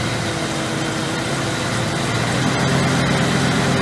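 A 1956 Chevy truck engine idles low and steady, a continuous rumbling hum that holds even throughout with no talk over it.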